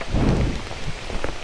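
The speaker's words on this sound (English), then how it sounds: "It's great that it's raining." Heavy monsoon rain pours down in Thailand, a steady loud wash of drops drumming on surfaces with a low rumble underneath, continuous throughout with no voices.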